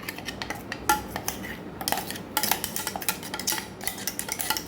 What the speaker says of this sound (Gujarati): અહીંયા હવે આપણે બાઉલમાં લઈ લઈશું.